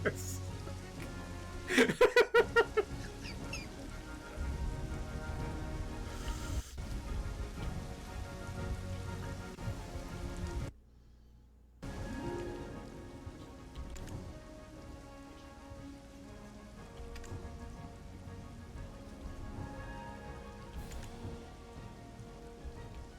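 Rain falls steadily in the Black Desert video game, a continuous patter with a louder burst early on, a brief dropout midway, then a constant hiss under light game sounds.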